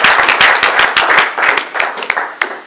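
A church congregation claps and cheers in acclaim of the Lord, loud irregular handclaps close by mixed with a wash of applause and vocal acclamation, fading slightly toward the end.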